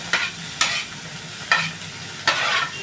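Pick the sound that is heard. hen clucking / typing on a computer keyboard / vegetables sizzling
vegetables sizzling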